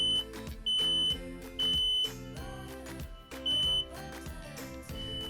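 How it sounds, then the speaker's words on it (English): Several interconnected household smoke alarms sound together after being tested with the button held, giving a loud repeating high-pitched beep pattern in bursts over a steady electronic tone. "all the alarms in the house are sounding"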